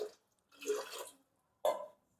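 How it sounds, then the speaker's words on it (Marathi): Water is poured from a glass into a pressure cooker holding dal, in three short splashy bursts separated by near-silence, close and moderately quiet. "3 ग्लास पाणी ओतले मी।"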